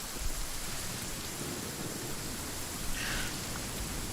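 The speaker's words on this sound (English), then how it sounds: "Oh, I don't like the rain." Steady rain in the Genshin Impact video game, a dense, even hiss of falling water that runs without a break, with a slightly brighter swell near the end.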